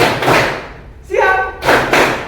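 Two sharp claps from a classroom of students, a quick pair of hand slaps following a teacher's spoken cue, with speech before and after.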